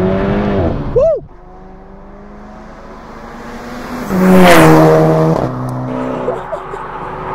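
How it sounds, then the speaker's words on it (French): A VW Golf GTI accelerating hard in second gear, engine revving up with a rising, whooshing turbo sound and a sharp dump valve blow-off, then easing off. A voice speaks briefly at the start. "entre 2500 et 4500 tours, on a vraiment des bruits d'air. Donc c'est le turbo, la boîte à air, le dump valve, tout ça."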